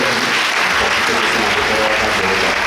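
Church congregation applauding loudly and steadily throughout, a dense continuous clapping with no pauses.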